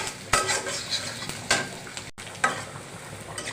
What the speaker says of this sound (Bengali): আমি এখন পেঁয়াজটা একটু বেরেস্তা করে দিয়ে দিচ্ছি